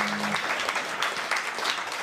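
A studio audience at a music trivia TV quiz show gives a short round of applause, steady dense clapping filling the whole two seconds at moderate level, with a faint tone at the very start.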